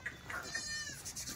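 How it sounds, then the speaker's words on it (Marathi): Kathiawadi sheep in a breeder's herd give a short, close bleat, with other animal calls mixed in over a busy background. "या अशा मेंढ्या असतात बघा."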